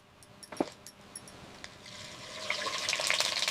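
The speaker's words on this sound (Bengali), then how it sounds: "তেল ঢেলে গোটা গরম মশলা দিয়ে দেব।" Whole garam masala spices dropped into hot oil in a pan, starting with a few faint clinks before a soft sizzle rises and grows steadily louder.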